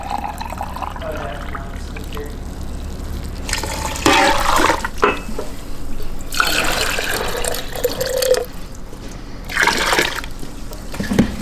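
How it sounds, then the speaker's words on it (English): Hot water poured from a container into a cooking pot, nine cups in all, heard as a few separate bursts of splashing and gurgling filling, with quieter pauses in between and no talking. "I'm gonna put in 9 cups of hot water"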